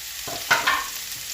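Garlic frying in hot oil, a steady close sizzle with a couple of stirring scrapes over it, no voices.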